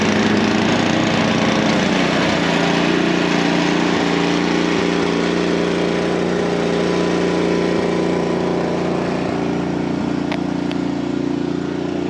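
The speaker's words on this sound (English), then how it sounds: "she's getting ready to mow the grass" A lawn mower runs steadily and loud throughout, a continuous engine drone mowing grass at a cabin, with no pauses and no talk.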